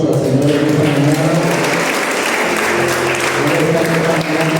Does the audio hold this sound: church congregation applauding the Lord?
yes